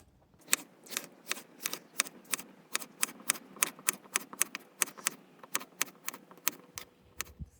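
Rapid, regular knife chops slicing summer squash into thin rings on a cutting board, about two crisp taps per second, close and clear with no talk.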